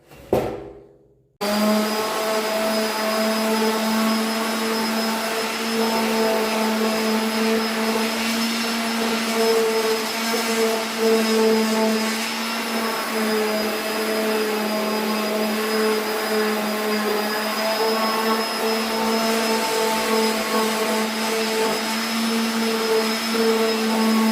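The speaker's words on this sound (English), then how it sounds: "Sand it up a little bit more." An orbital sander with 180 grit paper works a bevel on a wooden fleshing beam, giving a loud, continuous whine and hum that starts abruptly after a moment of quiet and holds steady to the end.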